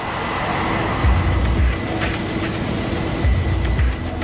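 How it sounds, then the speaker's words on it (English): A Pan Am Boeing 747 airliner touches down on an airport runway, a steady loud roar of engines and rumbling wheels with a few low thumps. "The Pan Am 747 touches down."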